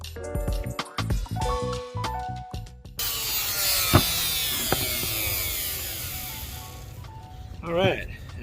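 Power saw making a plunge cut into wood to form a beveled edge: a broadband cutting whine starts abruptly and runs steadily for several seconds, preceded by clattery handling and ending in a brief rising whir.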